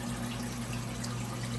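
Water pours steadily into an aquarium tank, a constant hissing rush under a low, even pump hum, faint and unbroken, with no voices.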